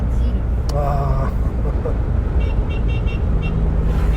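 A Citroën DS 23 car horn toots briefly amid loud road and engine noise at a classic car gathering, with voices talking in the background.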